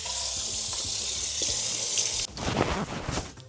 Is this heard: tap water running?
yes